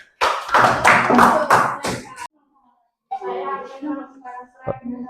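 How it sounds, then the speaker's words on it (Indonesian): Schoolchildren in a classroom clap for a presenting group, a burst of quick, close rhythmic claps lasting about two seconds, then a pause followed by children's voices talking. "Beri tepuk tangan untuk kelompok 3."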